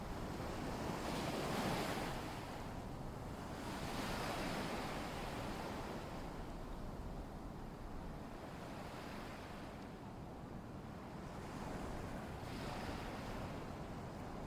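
Ocean waves wash steadily onto a lagoon shore, a continuous soft roar that swells and recedes, with wind blowing across the microphone.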